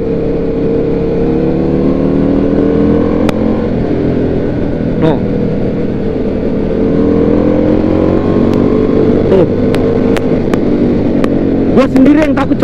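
A Husqvarna Nuda 900R motorcycle is ridden on a road trip from Semarang to Dieng, its engine droning steadily with gentle rises in revs under a loud rush of wind.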